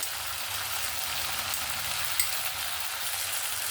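Mustard paste and water go into a curry for a katla fish dish and keep sizzling in the pan, a steady, even crackling hiss that runs the whole time without talk.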